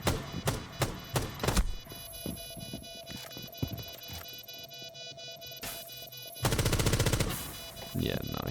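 Gunfire in a video game shooting through a wall: sharp, loud single shots in an uneven string, then a sustained rapid burst near the end, with ringing tonal game sounds between shots.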